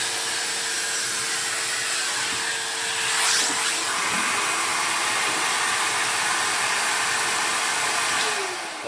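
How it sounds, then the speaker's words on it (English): A Hoover vacuum cleaner roars steadily at close range while sweeping out a Brosley Evolution wood-burning stove, a loud, unbroken broadband rush with brief shifts in tone as the nozzle moves, and no voices. "I'm just putting the hoover on right now."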